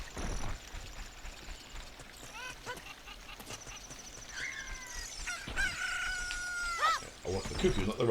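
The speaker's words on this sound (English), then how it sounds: "I hear a cuckoo, but I don't see a cuckoo." A cucco chicken in The Legend of Zelda: Ocarina of Time 3D, giving short high squawks and warbling cries in scattered bursts over soft game background sounds.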